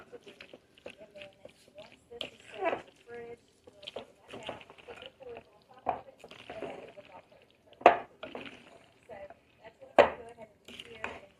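Hotdog burger meat being mixed by hand in a bowl, soft wet squishing and occasional knocks against the bowl in an irregular rhythm, fairly quiet and close, with a person talking intermittently.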